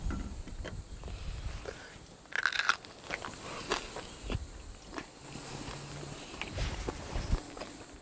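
Crunchy bites into crispy pork belly, a sharp loud crackling crunch followed by smaller crackles and soft chewing close to the microphone, with no talking over it.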